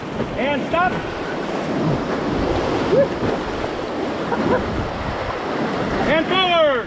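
Class 3 river rapids on the Wenatchee River wash steadily around a raft in a continuous rushing churn, with wind buffeting the microphone while a guide shouts paddle commands over the water.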